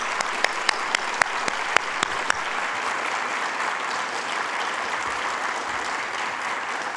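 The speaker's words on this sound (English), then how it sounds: "Now you can clap." Audience at a ceremonial opening honouring President John F. Kennedy bursts into sustained applause, starting with a few sharp isolated claps before settling into a steady, even wash of clapping with no talking.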